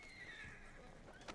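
A horse in the video game Red Dead Online giving a short, faint whinny, with soft hoof clops underneath.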